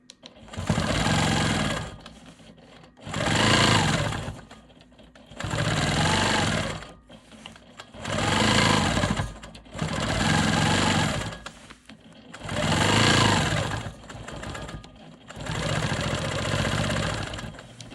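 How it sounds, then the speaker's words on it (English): A Quilt Maker Pro 20 quilting machine stitches straight lines, its rapid mechanical chatter coming in about eight steady bursts of a second or two each, separated by short quiet gaps, close and fairly loud. "I'm just going to be quilting straight lines here to really accentuate this block"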